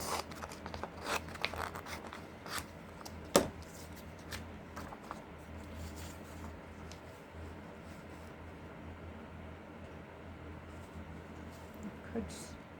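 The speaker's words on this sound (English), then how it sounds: "I'm just going to cut" Scissors cutting paper for a collage, with irregular crisp snips and rustling handling, close and fairly quiet, the clipping thinning out toward the end.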